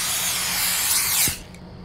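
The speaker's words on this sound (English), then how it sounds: "They do this every single time I spray a rat." A spray can hisses steadily on a rat in a convenience store video game, a broad continuous spray lasting over a second before cutting off, leaving a quieter background with a faint click.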